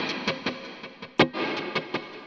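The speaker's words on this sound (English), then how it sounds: "then I have a lead or solo type reverb" Electric guitar played through a Strymon Big Sky pedal on a lead reverb preset with pre-delay: a run of separate picked notes and one sharper accented strum, each tail smeared into a long, washy reverb.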